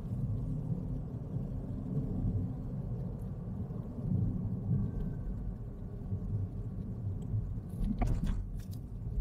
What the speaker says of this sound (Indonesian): Dengerin suara bannya.